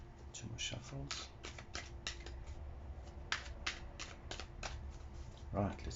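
Tarot cards are shuffled in quick, crisp riffling bursts, close and fairly quiet, with a brief voice near the end.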